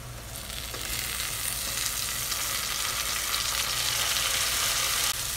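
Two chopped medium tomatoes go into onions sautéing in a pressure cooker for prawn biryani, giving a loud, steady, close sizzle with soft stirring and no talk.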